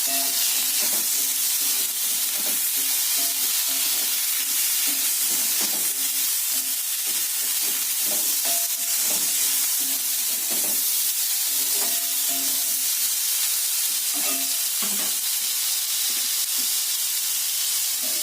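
Tomato and spices frying in a pan for a chana dal curry, giving a loud, continuous close sizzle with repeated stirring scrapes and no voices.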